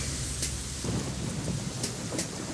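Steady, dense rainfall from Metal Gear Solid 2, a continuous hiss of rain with soft low rumbles beneath, heard alone without voices.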